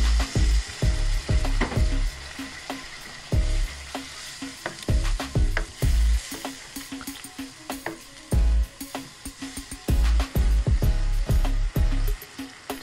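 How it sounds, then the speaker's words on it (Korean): Jjamppong ingredients, seasoned with doubanjiang, are stir-fried in a wok: a loud, steady sizzle broken by repeated clattering stirs and tosses throughout, with no voices. "이렇게 좀 공들여서 볶아줍니다."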